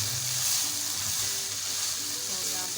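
Ground spices for Rajasthani keema, including turmeric, cumin and amchur powders, sizzle and fry in a hot pan while being stirred, a steady close crackling hiss with soft scraping throughout.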